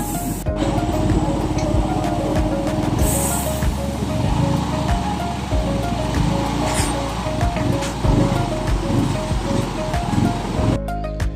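A Yamaha Aerox motor scooter engine idles steadily after a check-engine error repair, a close, continuous mechanical hum with a faint steady whine and a few clicks and knocks, with no talk over it.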